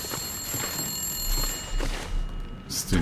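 A telephone rings in the video game The Long Dark, a sustained high electronic tone that stops partway through, followed by shuffling noise and a brief bright burst near the end.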